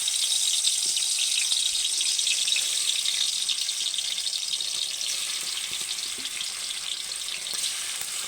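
Fish pieces, rubbed with salt and turmeric, frying in hot oil in a wok, making a loud, steady hissing sizzle that fills the whole stretch without pause.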